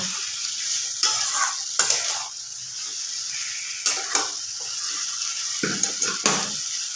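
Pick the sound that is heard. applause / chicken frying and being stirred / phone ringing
chicken frying and being stirred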